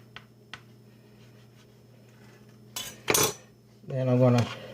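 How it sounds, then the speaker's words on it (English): Knife slicing a half smoke sausage into quarters on a cutting board, a few light taps, then quick scraping cuts and a louder clatter near the end. "what I'm going to do is cut it into threes. Cut it into quarters."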